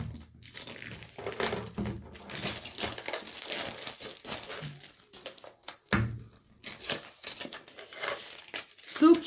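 A Temu parcel is unwrapped and opened up close, with bursts of crinkling plastic and tearing packaging coming in uneven rustling waves, and quiet talk in between.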